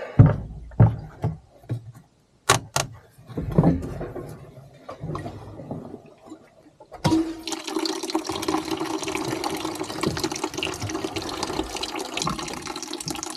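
New gasoline pours and gurgles as it flushes through the fuel tank of a Caterpillar D2 5J crawler tractor. Scattered knocks and drips come first, then a steady, close liquid rush. A voice speaks briefly.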